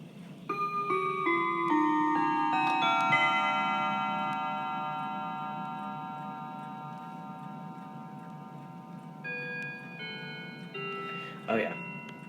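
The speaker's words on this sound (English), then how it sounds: "Now here are the chimes, beginning with the quarter after Whittington chime" A Seth Thomas Legacy V mantel clock striking the Whittington quarter chime, a sequence of clear bell-like tones that ring out and decay slowly, close and alone, with a faint knock near the end.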